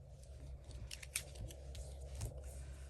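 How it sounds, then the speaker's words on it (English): Scissors snip paper while trimming pieces for a stamped floral sunburst card, a soft steady run of quiet cuts alone in a still room. "Keep trimming. You just keep doing that till you fill in all your spaces."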